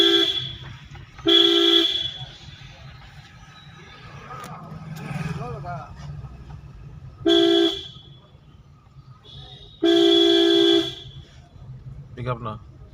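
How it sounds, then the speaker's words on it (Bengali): Car horn honks in bursts during a driving lesson: three loud, steady blasts about one to one and a half seconds long, separated by quieter road and engine noise, with a brief fainter toot near the end. "হর্ন মারো"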